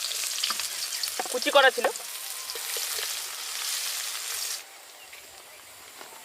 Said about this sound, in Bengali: আমাদের মোটামুটি কাঁচা লঙ্কা আর পেঁয়াজটা ভাজা মোটামুটি হয়ে গেছে লাল লাল করে